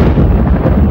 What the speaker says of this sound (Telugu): అయ్యో ఉరుముతోంది, వర్షం వస్తుందేమో.